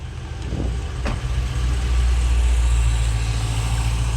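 A Dodge Challenger Scat Pack 50th edition with the 6.4 SRT Hemi V8, fresh from an oil change, idles close by with a steady, deep rumble that holds even throughout.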